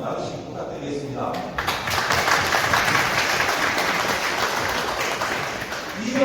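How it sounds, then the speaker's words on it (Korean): Applause from an audience at a Democratic Party members' day event in Gumi, a broad steady wash of many hands clapping that swells after the first second and holds loud, with talking mixed in. "서로 경례의 박수, 사랑의 박수 한번 나누시기 부탁드리겠습니다."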